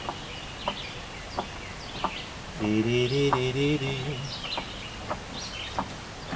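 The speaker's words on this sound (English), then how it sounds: "Birds are singing," A bird calls outdoors, one warbling phrase in the middle, beside a pottery studio where soft rhythmic clicks from the turning wheel recur throughout; a voice talks quietly in the background.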